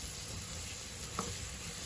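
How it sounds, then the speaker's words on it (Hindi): Steady sizzle of chopped red chillies dropped into a pan of mash dal, a soft continuous frying hiss with one brief clink near the end. "सुरख मिर्च 3 से 4 अदद मैंने कटिंग की वो डाल देंगे इसमें"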